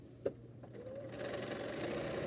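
A Bernina sewing machine runs at a quiet, steady stitching hum that starts after a few small clicks and continues faintly to the end, with no talking.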